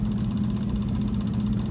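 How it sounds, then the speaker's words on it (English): A small vacuum pump runs steadily close by, giving a constant low motor drone with a fine high whine and no change in level. "Then we turn on the vacuum pump. Now we let this run for about 5-10 seconds."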